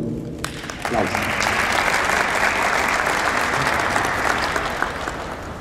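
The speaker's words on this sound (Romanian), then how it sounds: "Aplauze." Dense applause from a crowd at the evening opening of the 2011 Dacia Cup rally season, a steady loud wash of clapping that swells after a brief quieter start and holds throughout.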